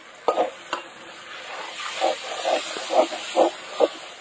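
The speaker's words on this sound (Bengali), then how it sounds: "এবার মশলার সাথে আলুটাকে মিশিয়ে নিতে হবে ভালো করে।" Mashed boiled potato is stirred into fried spices in a pan, giving a soft sizzle under a string of rhythmic scraping strokes about every half second, fairly close.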